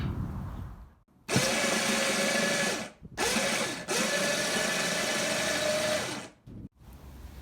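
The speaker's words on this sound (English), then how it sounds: "winch this onto the trailer" Winch pulling a Wheelhorse Raider tractor onto a trailer: three bursts of loud, close, whirring motor noise with a rising-then-steady whine, separated by brief pauses and clicks.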